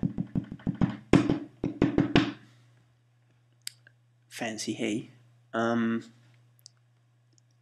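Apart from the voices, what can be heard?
Logic metronome click sound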